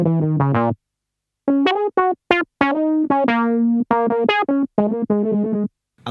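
A Jamstik MIDI guitar plays a bright synth preset called Groovy Nights in short, punchy staccato notes and quick syncopated phrases with brief silent gaps, loud and close, without any voices.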